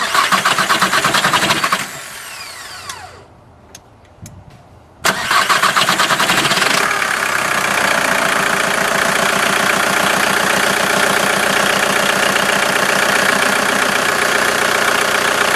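A repaired diesel engine cranks briefly, fires and catches, then settles into a steady, loud, close idle with a slight knock that runs to the end, with no talk over it.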